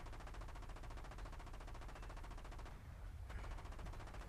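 Sustained rapid machine-gun fire in the War Thunder Mobile tank game, a steady dense rattle that runs the whole time with a brief dip near the end.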